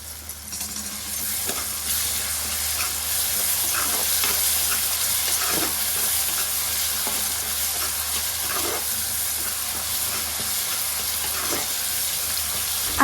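Ginger garlic paste frying in oil for vada curry gives a steady, loud sizzle, with a spoon scraping and stirring the pan at irregular intervals throughout.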